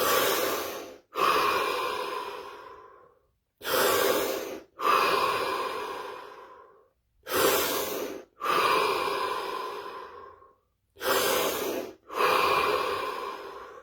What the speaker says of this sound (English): We're going to take 7 deep breaths, followed by 60 seconds of absolute stillness and silence.